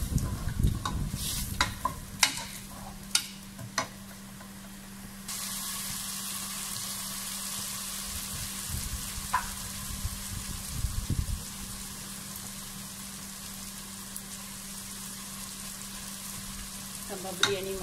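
Green chili, red chili and tomato are sautéed in a pan with a steady sizzle, and several sharp stirring scrapes come early on before the frying settles into an even hiss.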